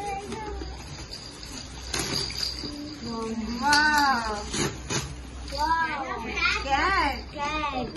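A toy cat, a birthday gift being unboxed, gives out a few electronic meow sounds close by, mixed in with children's voices and adult talk in a busy indoor room.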